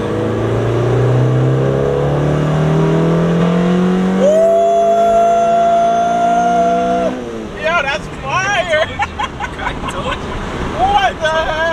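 A head-swapped K24/K20 ninth-generation Honda Civic Si engine revs hard through third gear, its tone rising steadily and jumping sharply into VTEC, then cutting off; excited voices talk over the fading exhaust afterward.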